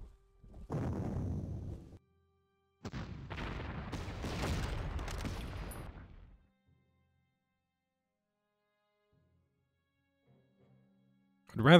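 Bursts of gunfire from a Panzer Corps strategy game hit an anti-tank gun: a short volley, a pause, a longer clattering barrage of about three seconds, then silence with a faint click and a brief loud hit at the end.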